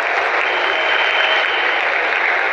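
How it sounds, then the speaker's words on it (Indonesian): Dense, steady applause from a large crowd at an Indonesian volunteers' gathering, a loud unbroken wash of clapping that carries through the whole stretch. "Tepuk tangan untuk beliau."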